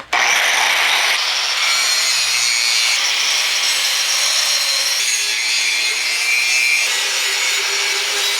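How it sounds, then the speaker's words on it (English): A power tool grinds steel Wolverine claws, a loud, continuous abrasive rasping and scraping that runs without a break for over eight seconds, its tone shifting slightly as the metal is worked. "Time to grind Wolverine claws."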